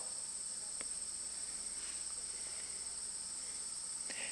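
Crickets chirp outdoors as a steady, faint high-pitched drone that holds through the whole stretch, with a soft click or two and no voices.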